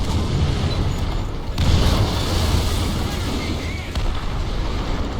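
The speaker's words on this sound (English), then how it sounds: "the enemy is preparing for artillery barrage" An artillery barrage pounds in War Thunder ground combat, a dense, continuous roar of overlapping booms and rumbling blasts. It stays loud and heavy throughout, with brief dips between waves.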